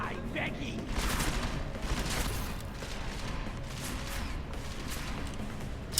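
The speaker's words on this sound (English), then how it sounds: "he's trying to shoot me through the wall" Bursts of automatic gunfire in the video game Deus Ex: Mankind Divided punch through a wall in rapid repeated volleys, mid-distance and fairly loud, over a low ambient hum.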